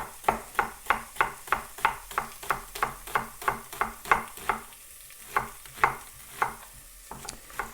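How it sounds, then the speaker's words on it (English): Onion frying in hot coconut oil, a regular run of close stirring scrapes roughly every third of a second over a soft constant sizzle, briefly pausing before resuming, with no talk. "that sound tells me that the oil is hot enough"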